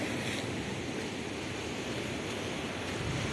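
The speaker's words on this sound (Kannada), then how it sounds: "ಅಂದರೆ ಆ್ಯಕ್ಚುಲಿ ನಮ್ಮ ಸೋಮೇಶ್ವರದ ಅರಬ್ಬಿ ಸಮುದ್ರ" Arabian Sea surf at Someshwara beach in Ullal, a continuous broadband roar of breaking waves mixed with wind buffeting the microphone, steady and loud throughout with no voices.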